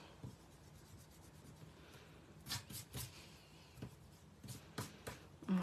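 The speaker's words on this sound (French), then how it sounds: "Je viens gommer mes trucs." An eraser rubs across paper while working on an album page, soft scratchy back-and-forth strokes in short irregular bursts, close and quiet.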